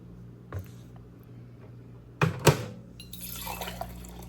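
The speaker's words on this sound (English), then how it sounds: "the water for the tea is ready, so let's make his hot tea to bring to him" Hot water is poured to make tea for someone recovering from liver transplant surgery: soft trickling and a couple of sharp clinks, then a brighter, steady splashing stream close by.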